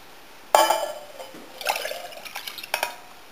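Water is poured into a small pan to be warmed for a country bread dough, with a sudden splash and a fill sound that continues, then light clinks and knocks of the pan, close and fairly clear.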